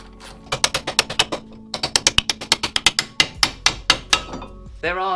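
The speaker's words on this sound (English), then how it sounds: "just undo the carrier bolts from the back of the hub" A ratchet clicks rapidly in bursts as brake carrier bolts are undone from the back of a Mazda MX5 front hub, sharp close metallic ticks with a short pause partway, ending in a brief scrape.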